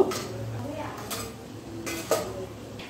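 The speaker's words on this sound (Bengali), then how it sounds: "তারপর যে ইডলির বাটিগুলো আমি রেডি করে রেখেছি সেটা একটা একটা করে দিয়ে দেব।" Small idli bowls clink one after another into a steamer pot, giving a few sharp metallic knocks and taps close by, with a person speaking.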